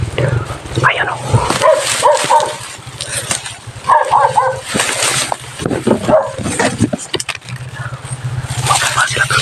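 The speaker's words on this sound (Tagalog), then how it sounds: "May aso pa dala-dala." Dogs brought along by people coming down a mountain bark and yip repeatedly in uneven bursts, fairly close, over a low background rumble, with voices mixed in.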